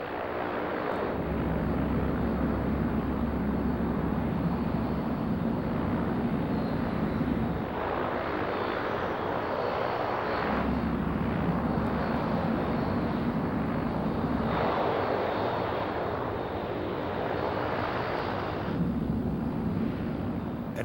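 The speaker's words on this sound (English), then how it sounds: "At 110 knots, Lieutenant Alan Poremba pulls back on the stick and the Orion is airborne." The engines of a Lockheed P-3 Orion patrol aircraft roar during takeoff, a loud, sustained, heavy drone that swells and eases in slow waves over about twenty seconds, with no voices.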